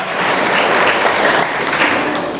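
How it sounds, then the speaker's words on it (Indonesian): Applause from a gathered audience of inmates in Lubuklinggau, a brief continuous burst of dense clapping, loud and even from start to finish. "Tepuk tangan tuh Pak Imam"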